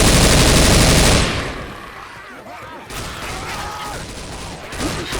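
Rapid, loud automatic gunfire from Left 4 Dead 2 roars for the first second, then thins into scattered shots and chaotic action noise that keeps going for several more seconds.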